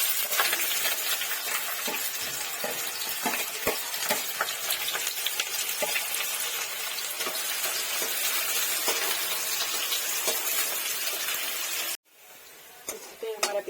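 Chopped onions fry in hot oil for a spicy masala macaroni, giving a steady, close sizzle with stirring clinks and scrapes throughout. The sizzle cuts off sharply near the end, leaving a quieter stretch of kitchen noise.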